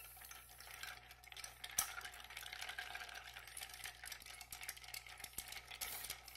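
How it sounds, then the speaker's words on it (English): A bar spoon stirs ice in a cocktail mixing glass for a Red Hook cocktail, a steady soft swirling clink of cubes for several seconds, close but quiet, with no voices. "And give it a good stir."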